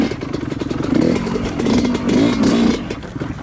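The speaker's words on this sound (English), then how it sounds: "stalled the bike" Tomahawk MX dirt bike engine close by, sputtering and revving in uneven bursts before dying out as it stalls, rough and clattery.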